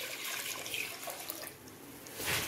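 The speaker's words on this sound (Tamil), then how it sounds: "4 கப் தண்ணியும் சேர்த்துட்டு" Water is poured into a pot already holding milk for creamy temple-style curd rice, a soft trickling splash that swells again near the end, fairly quiet and without talk.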